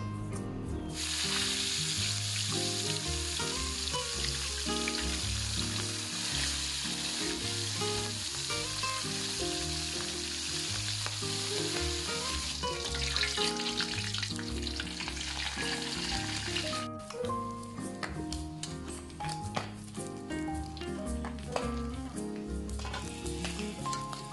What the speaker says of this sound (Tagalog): yung ating isda, ipiprito ko lang.